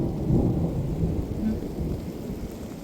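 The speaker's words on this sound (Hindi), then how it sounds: "आसमान में बहुत ज़्यादा गड़गड़ाहट हो रही है और बारिश भी कंटिन्यू चल ही रही है।" Deep rolling thunder over continuous heavy rain on a Himalayan trek toward the Pindari glacier, a low rumble swelling and fading under a steady wash of rainfall, loud and close.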